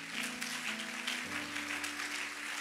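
A church congregation claps for the Lord in steady, dense applause, with sustained keyboard or organ chords underneath throughout.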